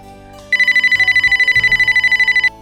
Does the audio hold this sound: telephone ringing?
yes